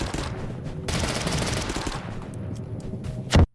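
An MP5K submachine gun fires a sustained automatic burst in a video game, draining the magazine in a dense rattle, followed by a quieter pause and a sharp, loud mechanical reload clack at the end.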